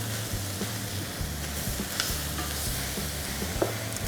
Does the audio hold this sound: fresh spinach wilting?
yes